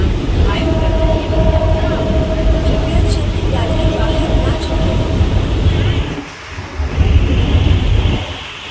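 Crowded passenger train in motion, a steady loud rumble of wheels and carriage noise with a faint tonal whine, dipping briefly near the end before the roar returns; no clear talk.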